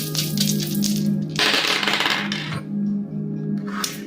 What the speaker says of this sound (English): And the bag of astrological dice.